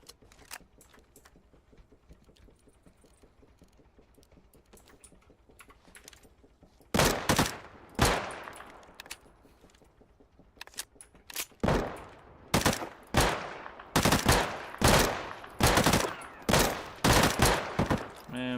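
Shotgun blasts in the survival shooter Deadside, a quiet stretch then about ten loud, sharp reports spaced roughly a second apart, each with a short decay, with a few fainter shots early on.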